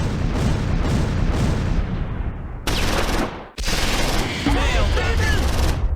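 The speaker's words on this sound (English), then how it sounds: "The artillery barrage lands." An artillery barrage lands in the Close Combat 4 Battle of the Bulge war game at Losheim: dense, rapid rolls of explosions and gunfire-like cracks, loud and continuous, broken by abrupt cuts and a short lull.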